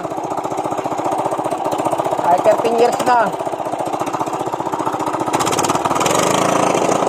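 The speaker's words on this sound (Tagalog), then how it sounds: "Okay pa naman si makina ko kahit ano na." A kuliglig hand tractor engine runs steadily just after starting, giving off a fast, loud, even chugging pulse close by that carries through the whole clip while someone talks over it.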